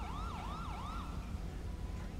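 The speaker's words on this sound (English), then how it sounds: "We have three ambulances here." Wailing ambulance siren from the LSPDFR police mod for GTA V, rising and falling in three sweeping cycles over a steady traffic rumble before fading into the background noise.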